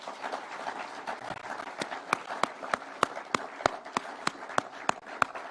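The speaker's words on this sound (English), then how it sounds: "please let us clap for those great people" Quiet, scattered clapping from an audience at a Kenyan political address, with a few sparse claps early on, then sharper, louder hand claps settling into a regular rhythm toward the end.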